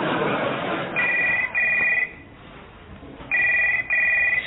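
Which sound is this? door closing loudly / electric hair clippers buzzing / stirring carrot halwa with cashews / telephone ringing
telephone ringing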